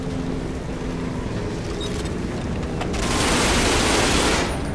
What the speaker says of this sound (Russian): Да, опять пулемет.